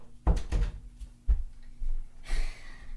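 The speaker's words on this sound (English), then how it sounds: "Let me just close my door before we get any further." An indoor door being shut: a couple of soft thumps and a firmer latch-like knock, close by, with faint rustling and breath around them.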